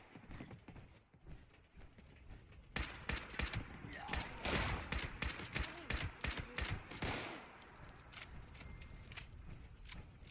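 Gunfire in the video game Fallout 76: after a quieter start, a dense run of rapid, sharp shots and clanks bursts out, then eases back to quieter game sounds.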